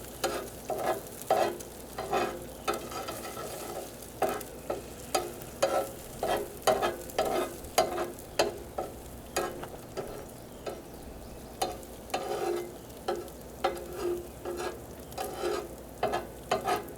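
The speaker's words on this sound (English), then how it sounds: "We're scrambling our egg." Rhythmic scraping of a utensil against a pan as an egg is scrambled during campsite cooking at Pershing State Park, repeating about once a second over a soft sizzle, close and without talk.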